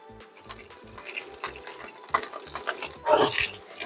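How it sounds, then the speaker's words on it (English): Baby tomatoes cooking in oil in a pan, with faint sizzling and soft stirring scrapes in short uneven bursts, closer and louder near the end. "We're going to add our tomatoes. You're just going to want to cook this till it's bursting."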